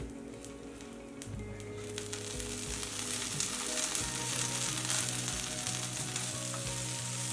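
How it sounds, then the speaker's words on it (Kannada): Fresh mint leaves sautéing in a pan with curry leaves and green chillies for a spicy chutney, a steady close sizzle and crackle that grows slightly louder and continues throughout without talk. "ಪುದೀನ ಚೆನ್ನಾಗಿ ಬಾಡಿಸ್ಕೊಳ್ಳೋಣ"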